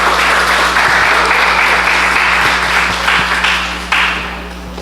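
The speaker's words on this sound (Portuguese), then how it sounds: "Vamos recebê-los com salva de palmas" Audience applause welcoming guests to a church debate program, loud, dense and continuous clapping from a crowd that holds steady for several seconds before fading slightly, over a low steady hum.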